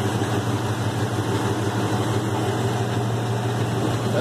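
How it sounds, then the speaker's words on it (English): A brand-new Jasper replacement car engine idling, a steady loud rumble with an even low hum that holds without change throughout, close by. "That's that Jasper engine on y'all."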